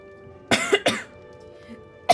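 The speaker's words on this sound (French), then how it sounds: "Pardon, je tousse." Two heavy coughs in quick succession, close and clear, with a faint steady hum in the background.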